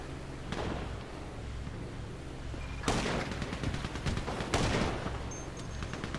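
Police officers firing on suspects in a video game, two sharp, loud volleys of gunshots with ringing tails breaking over a low, constant background rumble.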